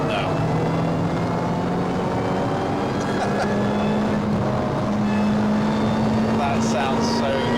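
Lotus Elise Cup 250 with an RRR intake kit, a steady rising mechanical whine over a loud engine drone while driving, with voices talking over it.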